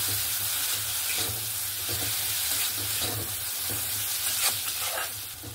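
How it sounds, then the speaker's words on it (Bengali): Fried potato and bitter gourd being stirred into a mustard masala in a hot pan, a continuous sizzle broken by repeated scraping strokes of the spoon at a steady rhythm, close and with no talking. "এবার আমি ভেজে রাখা আলু আর উচ্ছেটা এখানে দিয়ে দেব, দিয়ে মশলার সঙ্গে ভালো করে মিক্স করে নেব।"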